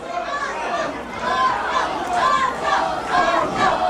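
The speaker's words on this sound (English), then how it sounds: "And you can hear the fans cheering, getting behind Oso Loco" Crowd of wrestling fans at a pro wrestling show cheering and shouting steadily throughout, a dense, lively roar with rising swells of voices.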